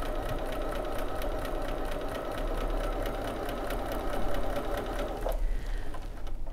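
A sewing machine fitted with a Bernina leather roller foot stitches down fabric piping at a steady, fast, even whir close by, running continuously and then stopping near the end, with no talking.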